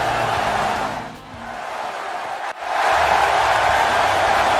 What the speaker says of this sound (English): Do you all hear the crowd cheer and roar for this man?